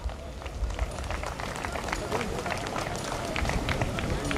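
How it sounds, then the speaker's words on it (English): Crowd applause at a graduation ceremony, steady dense clapping sustained throughout with a murmur of voices underneath. "Please give them a big round of applause."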